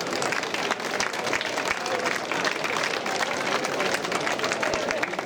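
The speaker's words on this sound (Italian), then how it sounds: "Facciamo un applauso di auguri a questa persona." A crowd at a folk festival in Orosei on Saint James's day applauds someone celebrating their name day, with dense continuous clapping and background crowd murmur.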